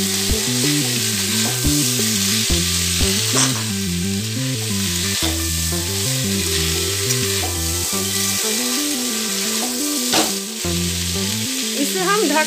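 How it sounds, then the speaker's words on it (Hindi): Onions fry in a pan for karela (bitter gourd) sabzi, a loud, continuous sizzle with regular scraping strokes as they are stirred, with no talking. "इसमें हम प्याज ऐड कर देते हैं और इसको अच्छी तरह से हम मिला लेते हैं"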